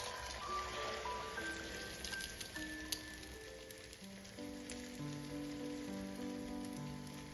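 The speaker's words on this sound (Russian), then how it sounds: "Разогреваю сковороду и выливаю всю смесь." Egg and bean mixture sizzles steadily in a heated frying pan, a continuous close crackle and hiss with faint tonal clinks and hum underneath, no talking.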